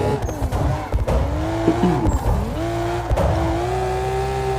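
A drift car in the video game CarX Drift Racing spins its wheels after a clutch kick, the engine note rising and dipping as the tires squeal in long wavering wails, loud and close with no voices.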